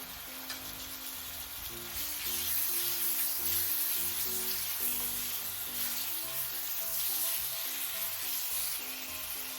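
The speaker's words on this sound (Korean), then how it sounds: "썰어둔 오징어를 넣어주세요" Sliced squid stir-frying in a pan for a squid gambas dish, a loud steady sizzle and hiss that swells after the first couple of seconds and holds, with a faint low tonal hum underneath.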